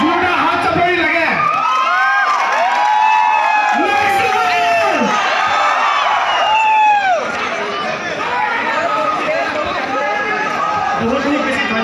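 A crowd at a program breaks into loud whoops and cheers, with voices rising and falling in bursts close by over continuous chatter, and someone talking through it.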